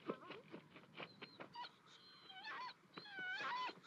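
A dog whimpering in the 1977 film The Hills Have Eyes, with high, wavering whines and moaning cries that rise and fall over a few seconds, fairly close and clear.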